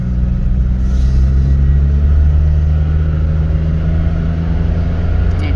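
A 2014 Mitsubishi Mirage with a CVT transmission held at about half throttle while climbing a slight incline gives a steady, loud engine drone and road rumble from inside the car, with no speech.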